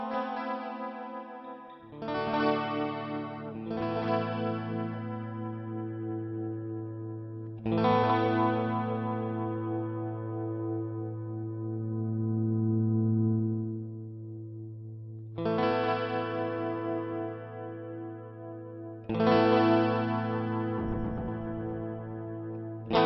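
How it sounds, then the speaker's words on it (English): Hotone Binary Eko delay pedal set to a pure echo mode, processing sustained guitar chords that are struck several times and trail off in clean repeating delay tails, loud and alone with no talking. "the pure echo is just a pure delay effect"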